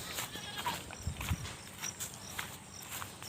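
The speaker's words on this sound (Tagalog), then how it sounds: "Papakita ko lang din sa inyo yung kambing natin dito." Goats on a farm in the late afternoon, with scattered soft bleats and shuffling steps around the animals, fairly quiet and close, with no one talking.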